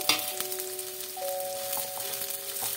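Chopped onion and green chilli frying in a pan, a steady continuous sizzle with no talking.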